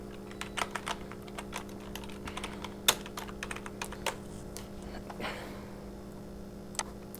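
Typing on a computer keyboard while entering address text into a wedding card layout in CorelDRAW, with irregular light key clicks and a few louder taps over a low steady hum, nobody speaking.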